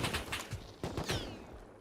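Rapid bursts of gunfire from the video game Rust, a quick volley of close, sharp shots followed by a second cluster of reports, with a faint bird-like chirp trailing behind.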